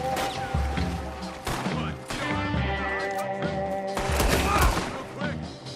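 Gunfire from the Red Dead Redemption 2 video game crackles in a dense, sustained volley mixed with crashes and game music, with a few sharper bursts near the end.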